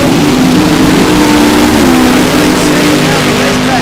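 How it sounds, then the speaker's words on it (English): A loud, close funny car drag racing engine roars at high revs at Cordova Dragway, its droning pitch holding steady and then dipping slightly, filling the whole moment. "So Massey gonna bring the revs way up"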